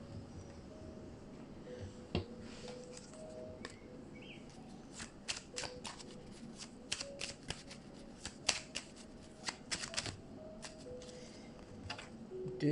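Tarot cards shuffled by hand at close range, a long run of soft riffling slaps and crisp card ticks in an irregular rhythm, quiet and without talk.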